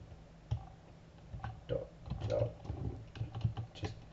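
Keys tapped on a computer keyboard while Java code is entered, an uneven run of close clicks and clacks with a faint voice murmuring underneath.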